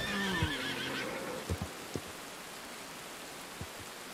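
A horse in Red Dead Online gives a wavering, falling whinny at the start, followed by scattered soft hoof thuds over a steady hiss of rain.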